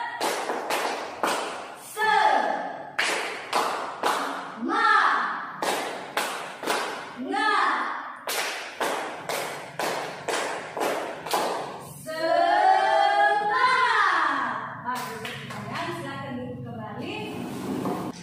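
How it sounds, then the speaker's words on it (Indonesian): A classroom group doing a rhythmic spirit clap, with bursts of sharp claps and thumps in steady patterns, interspersed with a voice and children's voices. "Kita tepuk semangat ya."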